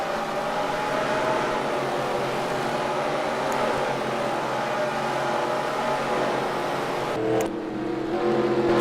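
Race cars roar together in a Busch Grand National Series stock car video game at Richmond, a loud, steady engine drone that holds throughout, with a brief shift near the end.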